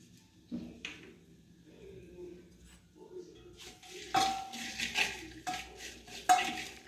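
A spoon stirs coconut curry seasoning in a pot with soft scraping and scattered metallic clinks, getting louder and busier in the second half, with a faint sizzle beneath.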